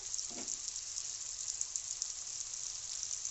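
Spices frying in hot oil for ghugni, with salt, turmeric and chilli powder being cooked into the masala, give a steady, even sizzle that stays close and constant without a break.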